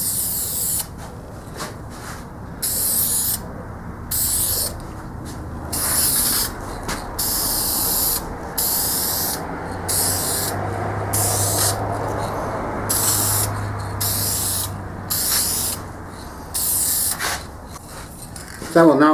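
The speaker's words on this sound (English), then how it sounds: "I'll put a couple coats of clear wood finish" Clear wood finish lacquer sprayed onto a sanded wooden frame for a three-drawer in-and-out box: a steady, close hiss in long bursts broken by short gaps, with a low hum running through the middle stretch.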